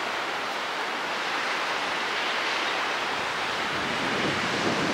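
Waves washing against a jetty at a crowded swimming spot, a steady broadband rush of surf and wind that holds near and fairly loud throughout, with no talk.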